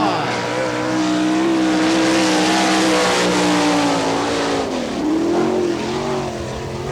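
A sprint race car roars close by as it completes a lap at an NCRA All Stars dirt track event in Wichita, Kansas. The engine note stays loud and continuous, rising and falling in pitch as the car works through the turn.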